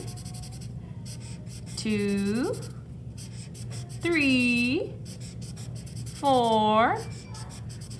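Marker colouring squares on printed graph paper, three bursts of steady rubbing strokes, each lasting under a second, close and clear, with a voice counting aloud in between.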